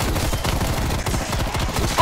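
Rapid automatic gunfire from a gun in Call of Duty Cold War Zombies, a dense, loud stream of fast, evenly spaced shots that rattles continuously without pause.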